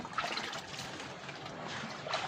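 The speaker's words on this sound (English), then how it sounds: "so I'll add in some water" Water poured onto a mix of compost and goat manure for a home worm bin, a steady close trickle and splash running through the whole short stretch without talk.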